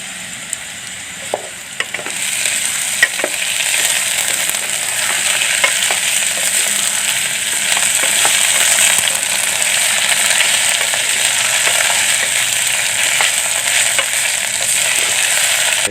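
Onion paste with ginger and garlic paste fries in a pan with a continuous loud sizzle, marked by occasional clinks and scrapes of stirring.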